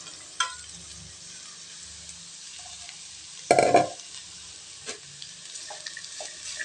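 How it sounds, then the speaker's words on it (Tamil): Chopped broad beans and onion sautéing in oil, a soft steady sizzle with occasional spoon knocks and one louder stirring burst midway. "இது எண்ணெயில் 1 நிமிஷத்துக்கு நல்லா வதங்கட்டுங்க"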